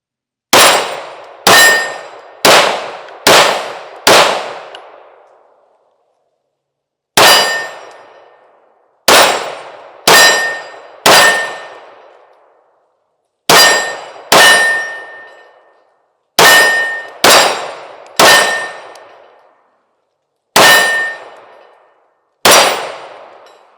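A Springfield Armory Prodigy Comp pistol fires through full magazines. Loud, sharp shots come in quick clusters of three to five, each ringing out briefly, with short pauses between strings and no talk.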